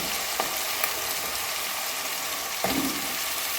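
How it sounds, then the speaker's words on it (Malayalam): Potatoes and onions fry in oil for a chicken curry, a constant hissing sizzle broken by two brief scraping stirs. "ഞാൻ കുറച്ച് ഒരു രീതിയിൽ ഇങ്ങനെ ഇളക്കി കൊടുക്കുന്നു"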